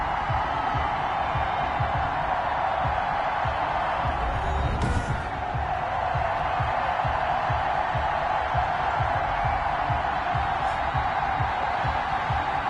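Stadium crowd in Madden 21 at Baltimore as the Ravens face the Kansas City Chiefs, a steady dense roar of thousands of fans holding at an even level throughout, with no voice over it.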